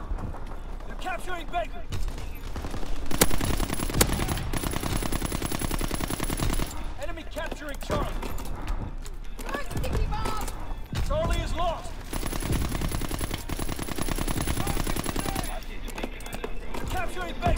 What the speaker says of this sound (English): Fighter aircraft ready. Call for a strafing run, Danny.